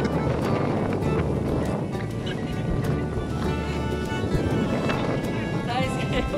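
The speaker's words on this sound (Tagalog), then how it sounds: "Grabe ang hangin dira karon." Strong wind on a mountaintop roars and buffets the microphone in a dense, rumbling rush that stays loud and continuous for several seconds.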